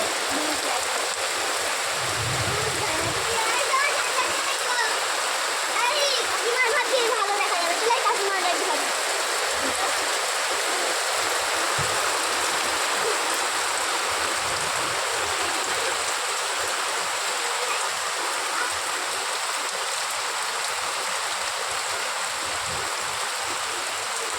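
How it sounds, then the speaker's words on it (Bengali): Dense, steady hiss of heavy rain with hail pouring continuously in the afternoon, loud and close, with occasional low thumps underneath. "দেখো বিকালবেলা কত পরিমাণে বৃষ্টি হচ্ছে"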